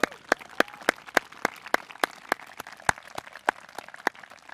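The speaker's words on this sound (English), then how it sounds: "Please give another round of applause for the Streamwatch program and its 30 years." Scattered clapping from a small outdoor audience at the State of the Watershed 2022 address, honoring the Streamwatch program: sharp, separate claps at a fairly even pace, faint and spaced apart, over quiet background.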